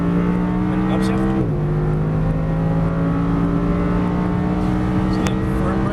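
An Audi R8 engine drones loudly and steadily, dropping in pitch after an upshift and then holding a smooth, continuous note at speed on a track.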